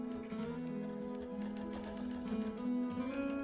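A quilting sewing machine stitches around flowers on a custom quilt, giving a continuous close mechanical whir with a fast, steady pulse of needle strokes that runs the whole time.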